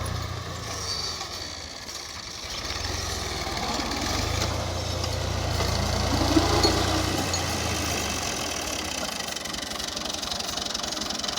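An Al-Ghazi tractor engine running under load while pulling an eleven-tine plough, a steady low diesel rumble with a slight knock, fairly close and continuous, swelling a little midway, with no talk.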